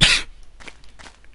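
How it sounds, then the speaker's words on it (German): A single loud, close cough bursts out at the start, followed by faint, soft rustling noises in an otherwise quiet room. "Oh, dieser Husten."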